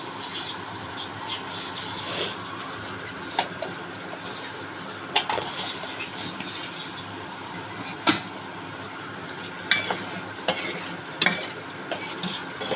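Potatoes and turmeric frying in a pan for a Bengali pui shak (Malabar spinach) dish, a steady sizzle with scattered sharp clicks and stirring scrapes throughout, no talk.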